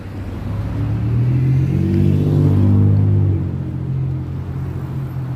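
Traffic rolls past on a Toronto street along Bloor, a loud, close engine rumble that swells as a vehicle accelerates by, then settles into a steady drone.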